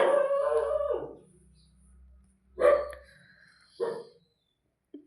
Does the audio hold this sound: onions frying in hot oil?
no